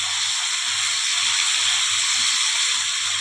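Water poured into masala frying in a pan for a vegetarian jackfruit pickle sends up a steady, close hiss and sizzle, constant throughout with a faint low rumble beneath.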